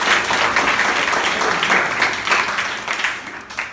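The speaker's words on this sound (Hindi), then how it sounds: "वेरी गुड, बेहतरीन, ताली बजाओ अपने लिए।" Schoolchildren at a village composite school applauding for themselves, a loud, dense round of clapping that holds steady and then tapers slightly at the end.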